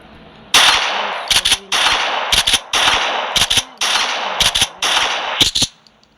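Gunfire from the video game GTA Online blasts in loud, close automatic bursts, long sustained volleys alternating with short clusters of sharp individual shots, with brief gaps between.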